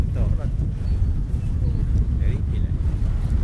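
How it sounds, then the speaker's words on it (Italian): Strong wind buffets the microphone on a cold day in a Modena street, a steady low rumble of gusts throughout with people talking faintly in the background. "Che vento"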